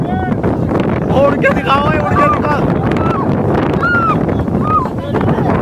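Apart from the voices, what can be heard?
strong wind blowing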